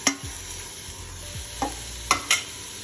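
Ginger-garlic paste being stirred into onions frying for a goat meat curry: a faint, low sizzle under a few stirring scrapes and a handful of sharp utensil clinks toward the end, with no talking.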